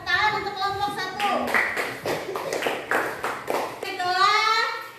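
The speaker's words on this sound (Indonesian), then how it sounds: "tepuk tangan untuk kelompok 1" Students in a classroom clapping for a group after its presentation: a burst of sharp, fairly rhythmic hand claps lasting a few seconds, with voices speaking just before and after.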